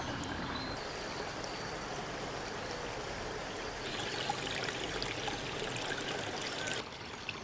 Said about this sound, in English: it's pumped water to give the illusion of a stream running through from one side of the garden